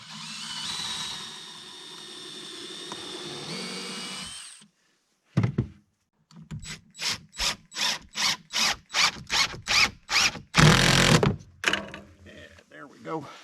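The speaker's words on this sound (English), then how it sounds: "pilot a hole" A power drill bores a pilot hole into plywood, starting with a steady whirring run, then a series of short repeated pulses and a louder grinding burst, close up, with a low hum underneath.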